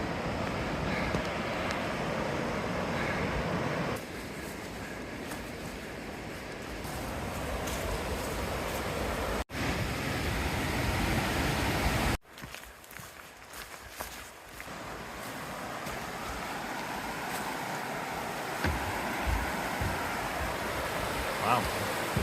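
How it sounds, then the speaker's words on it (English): Whitewater Falls in North Carolina rushing as a broad, steady roar of water, with wind buffeting in places and occasional voices over it. "All this to get a view of Whitewater Falls."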